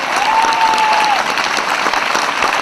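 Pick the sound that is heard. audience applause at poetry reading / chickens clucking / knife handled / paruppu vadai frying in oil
audience applause at poetry reading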